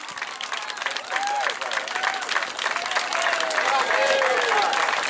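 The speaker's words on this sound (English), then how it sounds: "Give him just as big a clap." Spectators at the 2024 Bideford 10k road race clap for the second-place runner crossing the line, a steady, dense wall of applause that holds for several seconds while a voice talks over it.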